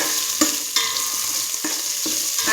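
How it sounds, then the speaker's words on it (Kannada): Onion tempering frying in a pan, a steady close sizzle broken by a few sharp stirring scrapes and clinks, with no voices. "ಇದೊಂಚೂರು ಫ್ರೈ ಮಾಡ್ಕೊಳ್ಬಿಡೋಣ"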